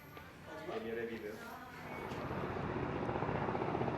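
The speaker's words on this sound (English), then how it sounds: "The helicopter's coming in for a landing." A helicopter comes in to land at a Barcelona helicopter station, its rotor and engine drone building steadily louder and closer over a few seconds, with a voice speaking briefly at the start.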